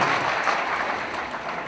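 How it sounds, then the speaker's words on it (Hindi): At a Hindi poetry gathering (kavi sammelan) in Indore, the audience breaks into a short, dense burst of clapping that holds fairly loud for under two seconds. "अच्छी कविता के लिए एक बार समूचा सदन दोनों हाथ ऊपर उठा करके अच्छी तालियां बजाकर"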